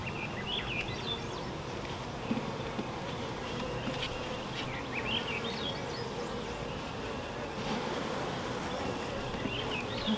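Honeybees in a new hive buzz close and steady during an open inspection, a dense, continuous hum with no break and no talking.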